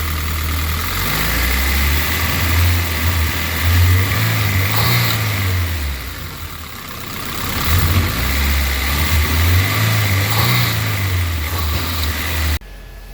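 A Honda CRX with a K24 engine runs loudly and steadily, rising in pitch twice as it revs up and then settles back, a continuous close mechanical drone.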